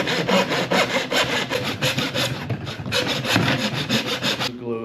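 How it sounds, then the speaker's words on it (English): A hand saw cuts through PVC with quick, light, rhythmic rasping strokes, close up, then stops at the end. "And just saw lightly. Don't push down on this type of saw."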